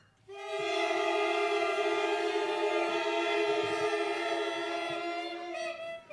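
A young student's woodwind mouthpiece played alone gives one loud, buzzy, reedy squeal held steadily for several seconds before cutting off.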